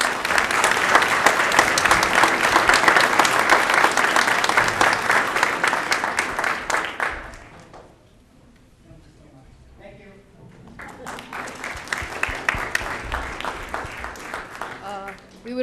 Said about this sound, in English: We would like to give him a great big round of applause.